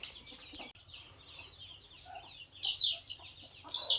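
Three-month-old young chickens in a coop cluck and chirp in scattered, overlapping calls, growing louder in a few nearby bursts toward the end.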